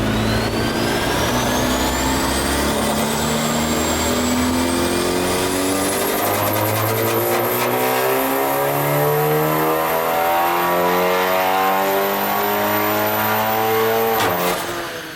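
A Stage 3 tuned VW MK8 Golf R accelerating hard, its engine climbing steadily through several gears with rising pitch, loud and close throughout, then easing off near the end.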